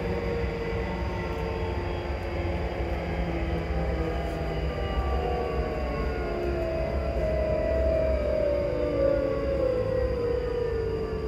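A train rolls along with steady rumbling and a long, loud tonal whine that slowly falls in pitch as it slows approaching Calder Crooks station, on a train bound for Edinburgh Waverley.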